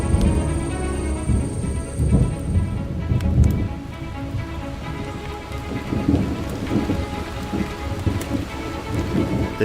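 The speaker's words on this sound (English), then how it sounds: "In the Amazon, storms hit with a fury like few other places on Earth." Heavy rainstorm in the Amazon rainforest, steady dense rain pouring and drumming on surfaces with rumbling thunder rolling underneath throughout, loud and close, no talking.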